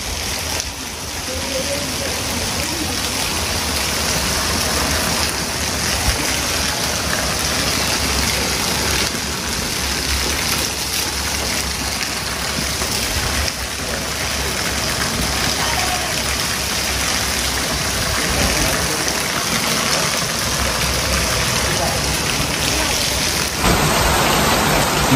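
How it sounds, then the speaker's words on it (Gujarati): Heavy monsoon rain with wind falls outdoors in North Gujarat as a loud, dense and continuous hiss of drops on surfaces. It holds steady for the whole stretch. "જો મિત્રો વરસાદ પડ્યો છે, તમે જોઈ શકો છો ગા વર્ષે હતો પવન સાથે"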